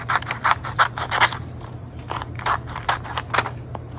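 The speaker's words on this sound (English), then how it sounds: "we're just going to cut around the edges and very tops of our building" Scissors snip through paper while cutting around the edges of a building shape, a run of short, crisp crunching cuts in quick bursts with brief pauses, close up, over a steady low hum and no talking.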